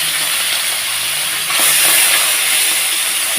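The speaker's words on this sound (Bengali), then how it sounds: "প্রথমে তেলটা যেহেতু গরম হয়ে যাচ্ছে মাছগুলো ছেড়ে দিলাম সব একসাথে" Small fish slid all at once into a pan of hot oil for a Bengali fish recipe, giving a steady broadband frying hiss that swells louder halfway through and keeps sizzling close up without talk.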